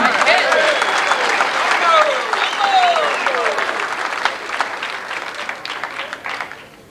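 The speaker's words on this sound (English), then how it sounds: "Big round of applause for Mr. Kent Clausen" An RC car racing crowd applauds Kent Clausen as he is introduced, dense sustained clapping with a voice talking over it, slowly tapering off toward the end.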